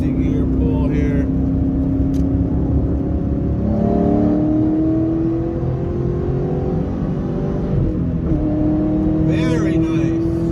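A 2004 Cobra pulls hard through a gear, its engine note climbing loud and steady in repeated rising sweeps heard from inside the car, with a person talking over it.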